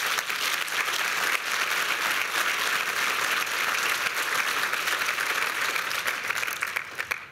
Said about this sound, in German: Das ist dein Applaus.